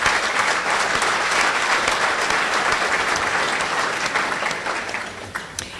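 Sustained audience applause at a scholar athlete awards luncheon, steady dense clapping from a large room that fades slightly toward the end, honoring the awards committee.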